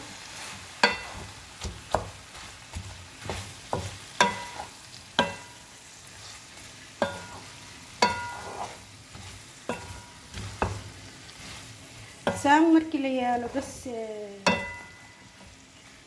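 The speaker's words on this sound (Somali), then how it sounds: "hadda waxaan ku darayaa basashan iyo barbaroonigan la karinayo." Onion and peppers frying in a pan, with repeated scraping and stirring knocks over a soft sizzle, and a brief stretch of speech partway through.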